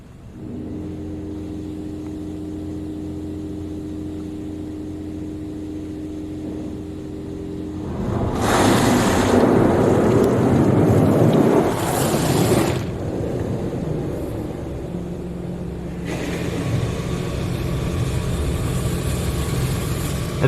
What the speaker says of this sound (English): so I'm gonna leave the window up for the dryers